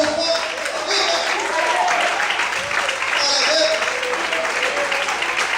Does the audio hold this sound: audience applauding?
yes